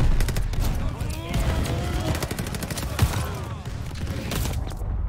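Gunfire rattles in a Call of Duty Vanguard battle, a dense run of rapid shots and bursts with a heavier thump near the middle, all under steady game noise with a voice speaking.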